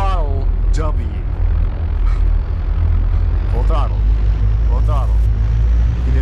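Airplane engine at full throttle in Garry's Mod, a loud constant low droning hum filling the background while excited voices talk over it.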